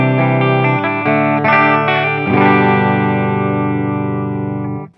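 An electric guitar with a clean tone plays a few sustained chords, ringing out and slowly fading at the end.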